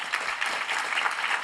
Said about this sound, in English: I want to get a big round of applause for our excellent panel.